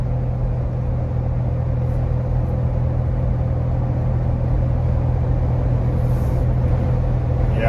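Steady, deep exhaust rumble from an idling 2021-2022 Ford Bronco with an aftermarket catback exhaust, constant and close with no talking.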